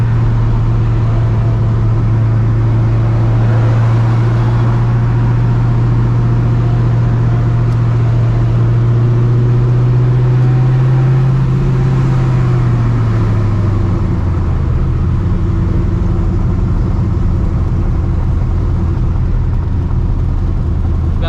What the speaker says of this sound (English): Probably hear that clutch pedal rattling.